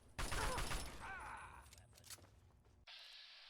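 A frag mine in Fallout 3 goes off in a loud, sharp blast with scattered debris and ringing, fading into quieter game sounds, then a steady tone enters.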